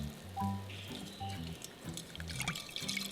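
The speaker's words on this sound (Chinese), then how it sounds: "然后再加入285克的清水，搅拌均匀" Water poured into a small pot of rice flour and sugar and stirred, giving close, quiet liquid sloshes and drips in an irregular rhythm with light clinks throughout.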